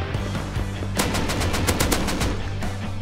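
Rapid automatic gunfire in the video game Rust, a loud, dense burst of about a dozen close shots fired in quick succession over a low rumbling background.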